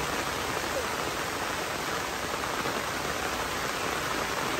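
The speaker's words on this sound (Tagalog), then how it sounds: "Umulan na guys, malakas na ang ulan." Heavy rain pours down in a dense, steady hiss with no pauses, loud and enveloping, with no voices.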